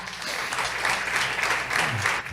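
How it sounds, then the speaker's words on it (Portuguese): A church congregation claps loudly and steadily after a closing prayer, a dense, even wash of hands filling the room throughout. "aplauda bem forte o Senhor"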